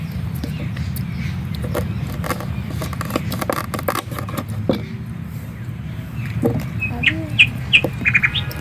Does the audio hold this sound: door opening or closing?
no